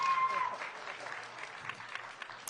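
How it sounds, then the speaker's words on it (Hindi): Audience clapping at a literary festival session with film actors, a moderate crowd applause continuing evenly with a faint voice or tone briefly over the start. "अगर तालियां जोर की बजेंगी"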